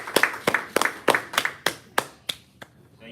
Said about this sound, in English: please can we give them a resounding applause?